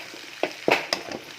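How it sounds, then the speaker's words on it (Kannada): Garlic crackles in hot oil during tempering for a salted jackfruit stir-fry, a brief run of close, sharp sizzling pops over a soft frying hiss. "ಬೆಳ್ಳುಳ್ಳಿ ಹಾಕಿ ಒಗ್ಗರಣೆ ಇಟ್ಟು"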